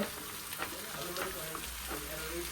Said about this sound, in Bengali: পেঁয়াজটা আরো ফ্রাই এলে কারণ পেঁয়াজটা একটু কম ফ্রাই